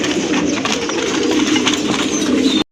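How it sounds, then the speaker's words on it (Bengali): Rajgolla pigeons coo steadily at close range in a crowded pigeon sale collection, their soft calls blending into a dense, continuous bed of bird noise. "প্রথমে এক জোড়া কবুতর দেখতে পাচ্ছেন আপনারা, রাজগোল্লা কবুতর"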